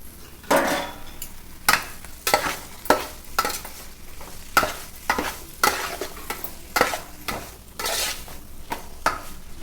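Tomato pieces frying in a pan for a tamarind-leaf curry, a soft sizzle punctuated by repeated close scraping and clanking stirs of a spatula against the pan at an irregular rhythm.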